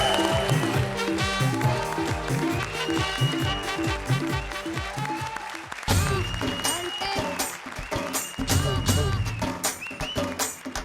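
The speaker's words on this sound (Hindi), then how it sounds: "कपिल और शिमोना के इस धमाकेदार परफॉर्मेंस के लिए जोरदार तालियां।" An audience applauds loudly and steadily for Kapil and Shimona's energetic dance performance on a comedy show stage. The clapping runs continuously under a driving music track.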